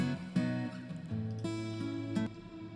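A sustained, smooth synth pad with a long reverberant wash, chords shifting slightly while the tail hangs frozen and steady throughout.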